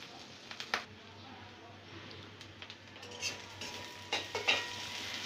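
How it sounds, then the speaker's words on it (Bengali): Ginger, garlic and onion are sautéed in a pan, with soft frying hiss under repeated metal spatula scrapes and clinks against the pan, some sharp and close, while a voice talks now and then. "আদা রসুন পেঁয়াজ আমরা একটু এগুলোকে ভালো করে কষিয়ে নিব"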